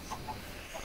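Chicken in Minecraft near a wooden coop, giving three short, faint clucks spaced across a brief moment over quiet game ambience.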